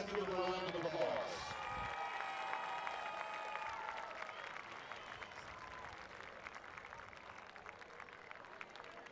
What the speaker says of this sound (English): Once again, let's give them a round of applause.